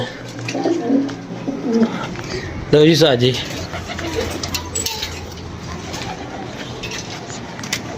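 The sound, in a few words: pigeons cooing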